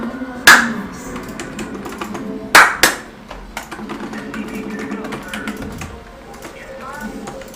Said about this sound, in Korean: 박수요